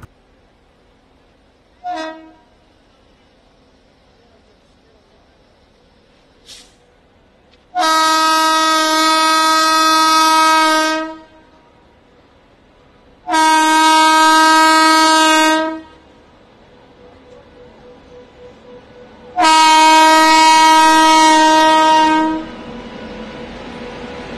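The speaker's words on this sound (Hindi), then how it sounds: "ठीक हो चुके रेलवे ट्रैक पर मालगाड़ी भी गुजरने लगती है" A freight train's horn sounds from a repaired railway track after an express accident: a couple of short early toots, then three long loud sustained blasts separated by pauses, with faint rail rumble between.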